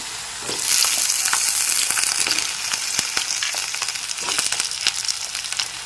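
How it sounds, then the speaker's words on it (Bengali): Pieces of potato and pointed gourd fry in hot oil with a steady bright sizzle, while a spatula scrapes and stirs them at intervals, close and loud. "নেড়েচেড়ে সবজিগুলোকে ভেজে নিচ্ছি"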